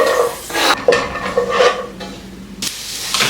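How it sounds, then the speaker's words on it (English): Chopped onion sizzles in a hot pan while a utensil stirs and scrapes through it, the frying hiss rising and falling in uneven strokes, close and fairly loud, no talking. "Next, I'm gonna put in my chopped onion."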